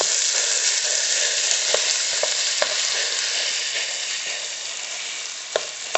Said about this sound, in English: We're going to be cooking it until it's well browned.